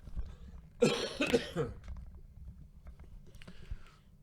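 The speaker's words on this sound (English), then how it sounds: "Coughing again." A pair of quick, close coughs during commentary on a 10-ball pool match, in an otherwise quiet stretch with faint background hum.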